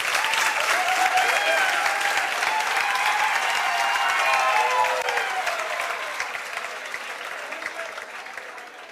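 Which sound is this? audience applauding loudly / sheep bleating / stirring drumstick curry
audience applauding loudly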